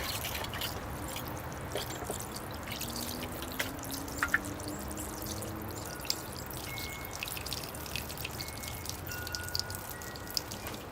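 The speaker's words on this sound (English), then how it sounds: "I'll give that a wash now with water and see if it looks good" Water steadily trickles and drips over a Serissa bonsai and Chinese village penjing display as it is washed down, a constant close splashing patter with small drips throughout.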